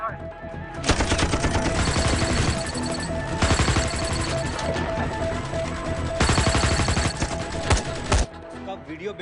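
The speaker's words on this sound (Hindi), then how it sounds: "हम तो फायरिंग कर रहे हैं सर।" Rapid bursts of gunfire in a Hindi action film scene, loud dense volleys in three main stretches across the whole clip, with a few sharp shots in between and a brief quieter gap.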